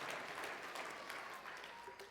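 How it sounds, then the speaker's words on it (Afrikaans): Congregation applauding during a Sunday church service, a steady wash of clapping hands that fills the whole moment at moderate volume without clear individual claps. "Kom ons gee haar lekker hande klap."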